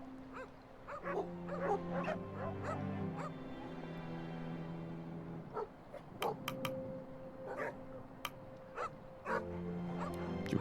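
Sled dogs in the icy survival game The Pale Beyond bark in short sharp yips and whimper over a low sustained musical drone, the calls scattered through the scene with a brief quiet gap midway.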